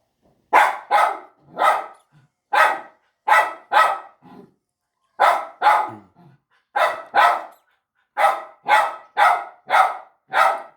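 A dog barks repeatedly and loudly, short sharp barks in quick bursts of two or three with brief pauses between, close by and alone.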